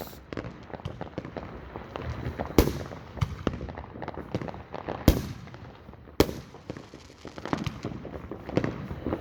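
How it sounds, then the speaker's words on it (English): Fireworks being set off at an airshow crackle and bang in dense, continuous volleys, with several sharp, loud booms standing out over a steady rumble of smaller pops. "They are literally lighting all the fireworks."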